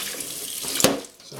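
Tap water running into a kitchen sink during dish washing, a soft continuous hiss and splash with a brief sharper splatter as a plate is wetted, close and alone.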